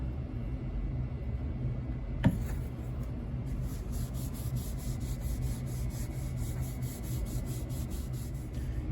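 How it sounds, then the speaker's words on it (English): Mineral oil being rubbed onto the wooden base of a leather knife strop, a steady soft rasping friction that runs continuously and close up after a single sharp knock. "Now I'm just going to put a light coating of mineral oil on the wood."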